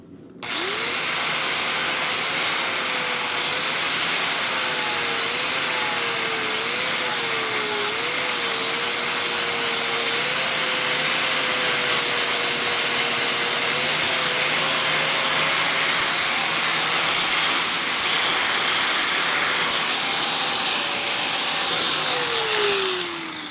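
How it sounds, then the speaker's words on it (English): An angle grinder cleans up hot forged steel in a blacksmith shop, a steady loud whine that wavers slightly in pitch as the disc bites, running continuously for over twenty seconds with gritty abrasive hiss. "So I'll just take the grinder, clean it up."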